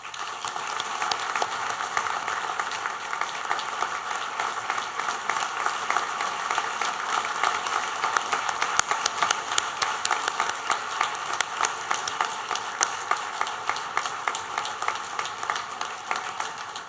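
Audience applause at a university engineering graduation ceremony, a sustained dense wash of many hands clapping that fills the hall steadily from start to finish.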